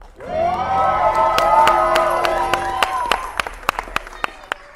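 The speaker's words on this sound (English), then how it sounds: "ladies and gentlemen, let's have a big round of applause" A studio audience breaks into applause, a steady wash of clapping with some cheering under a sustained musical tone, thinning toward the end into a few scattered louder claps.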